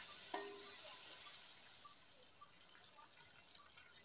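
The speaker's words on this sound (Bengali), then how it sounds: "এখন আমি বেটে রাখা টমেটো কড়াইতে দিয়ে দিলাম।" Ground tomato paste frying in a wok with turmeric for a potato and pointed gourd curry, a faint soft sizzle with a couple of sharp spoon clinks against the pan, quiet and steady without speech.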